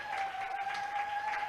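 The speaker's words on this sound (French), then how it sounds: "Est-ce que nous pouvons acclamer très fort pour le Seigneur?" Church congregation applauding together in a steady, dense clatter of hands, fairly close and even, with a sustained tone ringing underneath and no talking.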